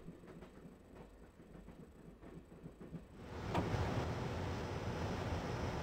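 Train running in the Broken Sword video game, a steady rumbling roll that swells louder about halfway through and carries on as a dense, continuous rush.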